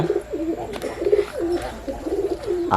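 Pigeons coo repeatedly nearby, soft throaty rolling calls overlapping in a steady rhythm, with faint rustling beneath.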